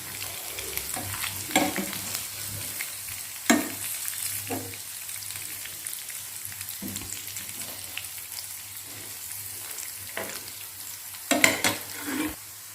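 Chicken pieces for homemade shawarma fry in hot oil, giving a steady close sizzle broken by sharp pops and spatters throughout, with no talking.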